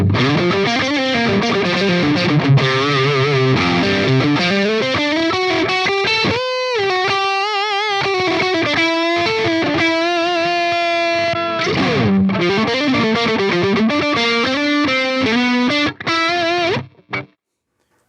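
Heavily distorted metal guitar played through a Line 6 Helix amp preset, loud and dense with chugging riffs, sustained notes and brief gaps, ending in a sudden cut to silence, no speech.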